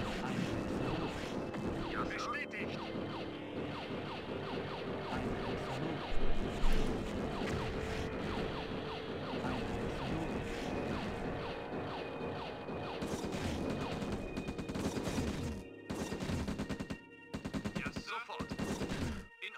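Base defences firing in Command & Conquer: Red Alert, a long stretch of rapid, rattling gunfire and mechanical clatter that keeps going steadily, with brief gaps near the end.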